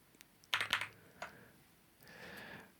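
Several quick bursts of keystrokes on a computer keyboard while entering terminal commands, close and fairly quiet, with a short pause and then a softer stretch of clicking.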